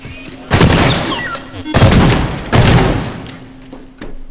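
Gunfire in the Teardown video game: a few loud bursts of rapid shots, each lasting about a second, with brief gaps between them and no talk.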